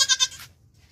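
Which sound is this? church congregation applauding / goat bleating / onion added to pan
goat bleating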